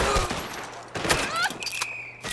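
Gunfire in Red Dead Redemption 2 around the streets of Saint Denis: a few sharp shots crack out in quick succession against busy game ambience, with a faint voice murmuring underneath.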